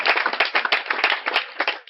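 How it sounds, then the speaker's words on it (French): An audience at a business-themed event breaks into brisk, dense clapping, close and lively, fading out at the end. "S'il vous plaît, des acclamations."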